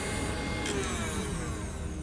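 A stand mixer whips egg whites for a pavlova, giving a steady, loud motor whir with a constant beater hum throughout, no pauses and no voices.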